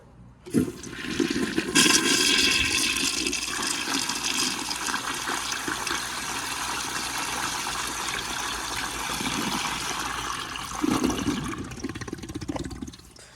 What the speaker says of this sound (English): Alright, the flushometer this is a weak flush. Let's see how it does.